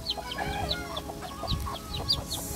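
Two mother hens clucking outdoors near a cooking fire, with repeated short clucks and squawks at close range and a continuous crackling background.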